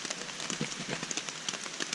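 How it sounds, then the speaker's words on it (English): Steady rain patters on a tent on an Appalachian Trail section hike between Bluff Mountain and Rich Mountain, a soft, even hiss with scattered individual drops tapping close by and no voices. "The rain's kind of calmed down a little bit."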